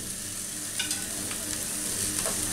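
Chicken fried rice frying in a pan, a continuous hiss and crackle of sizzling close up, with a few faint scrapes of a spatula and no talking.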